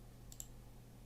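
Two quick, faint computer mouse left clicks close together, heard alone against a quiet background hum.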